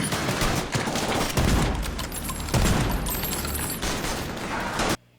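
Dense gunfire from The Last of Us TV series, with rapid overlapping bursts of automatic shots and booms forming a loud, continuous barrage that cuts off abruptly near the end.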